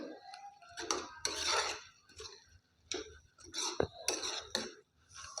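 A spoon stirs a radish leaf vegetable dish with spices and chopped coriander in a pan, making close, intermittent scraping and clinking bursts.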